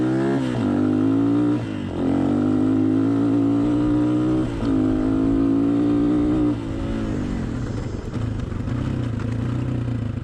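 A Honda XLR125R motorcycle engine, fitted with a Chinese CDI taken from a Honda XL600V Transalp, revs up and down in several loud, close bursts, settling between throttle blips into a rough, steady idle.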